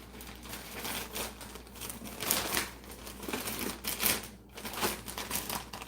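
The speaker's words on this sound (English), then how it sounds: "It's a plastic bag, I get it." A plastic bag crinkles softly and irregularly nearby in a quiet room, with bursts of crackling rustle rising and falling.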